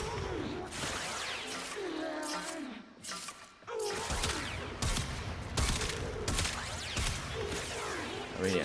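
A Kuva Zarr cannon in Warframe, the non-explosive variant, firing repeated heavy blasts in an irregular rhythm, with someone talking over the gunfire.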